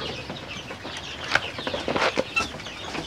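Free-range village chickens (ayam kampung) cluck at morning feeding, a busy, noisy flock with overlapping clucks and scattered louder calls close by.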